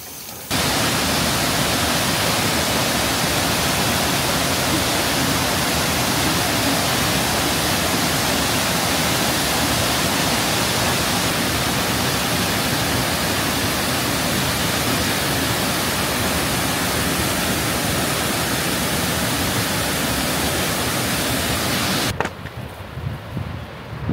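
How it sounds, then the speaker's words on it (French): The Salah waterfall in Guinea produces a steady, loud, hissing roar of falling water that holds unbroken for over twenty seconds before cutting away near the end. "Et là voilà, la cascade de Salah, ça vaut vraiment la peine de faire le détour."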